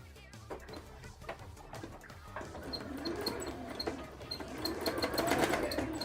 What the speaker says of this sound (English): So I can sew something in this section.